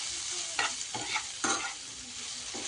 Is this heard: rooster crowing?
no